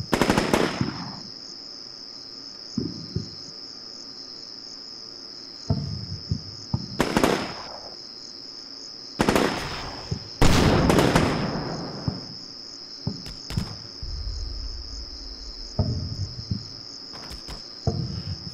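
Gunfire in the war game Combat Mission Shock Force, aimed from an irrigation trench, cracks out in sporadic sharp bursts, some short and some heavier, over a steady high chirring of insects.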